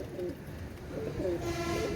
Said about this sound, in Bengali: এটা হচ্ছে কাশরি কবুতার আর আপনারা জানেন কাশরি কবুতর অনেক ভালো ফ্লাই করে